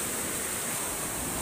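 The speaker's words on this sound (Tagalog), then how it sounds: "Grabe guys, kalakas ng alon." Strong storm waves crash into a house at night during Typhoon Odette, a loud continuous roar of surging water and spray with no break.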